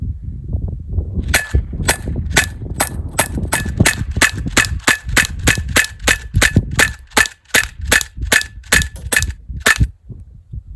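A CO2-powered Patriot air gun fires a rapid, evenly spaced burst of about twenty sharp, metallic snapping shots over a low background rumble, then stops.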